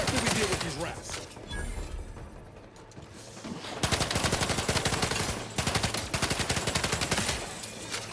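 Gunfire against rats in The Outer Worlds, dense bursts of rapid shots with a brief lull in the middle, then more sustained automatic firing, loud and close with a game soundtrack underneath.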